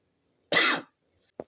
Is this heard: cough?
yes